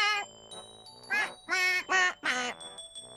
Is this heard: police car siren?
no